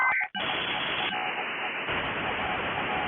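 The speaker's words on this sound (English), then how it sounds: "Calling it plays some distorted audio," Distorted audio heard when calling a mysterious phone number, carrying hidden Morse code: a burst of tone-like beeps opens, then a sustained harsh, static-laden broadband hiss fills the rest, loud and continuous.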